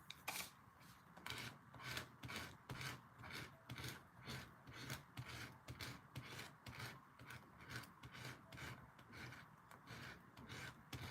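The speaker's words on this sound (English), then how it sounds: "My eraser's not erasing, so I try to sharpen the tip with this." Rapid, steady back-and-forth scratching of an eraser tip rubbed on sandpaper to sharpen it, close and continuous with a regular rasping rhythm and no talk.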